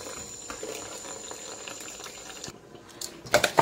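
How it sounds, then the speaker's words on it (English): Tap water runs in a kitchen over a cook's hands while dumpling dough is kneaded for Jamaican salt mackerel with okra, a steady close broadband stream with a brief pause, then a few louder splashes near the end. "I'm gonna keep the water running on it"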